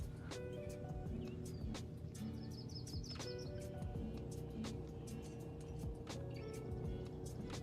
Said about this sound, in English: The birds chirp.